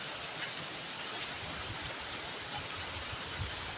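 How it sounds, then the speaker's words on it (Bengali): Steady rain falls at a lake park during heavy rain, a continuous soft hiss of drops with no talk and no breaks. "বৃষ্টি পড়ছে।"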